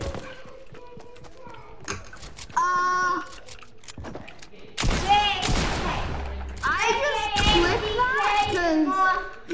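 Gunshots in the video game Fortnite, a few sharp shots mixed with loud, excited young voices talking and shouting over game sounds.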